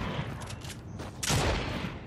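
A shotgun blasting in a shooter video game, one loud, broad roaring discharge following quieter game noise.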